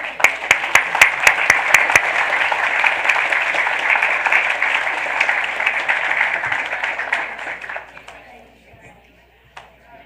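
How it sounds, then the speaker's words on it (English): Audience applause at a school board of education business meeting, a steady broadband wash of clapping with a few sharp individual claps at the start, holding loud for about eight seconds before fading out. "let's give them another round of applause"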